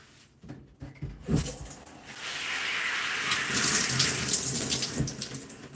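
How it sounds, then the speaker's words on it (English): Tap water runs steadily onto hair during a hair-care routine, a broad continuous hiss that swells and thickens after a few quiet seconds, close and loud, with no voices. "having the water on my hair."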